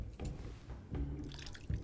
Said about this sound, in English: I didn't actually want to drink the water.